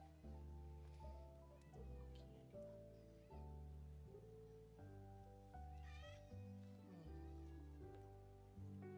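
A pet cat meows a few times, its rising cries riding over loud, steady holiday music playing throughout at home.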